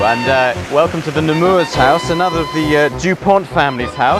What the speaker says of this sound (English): The noise you can hear is the noise of this absolutely beautiful fountain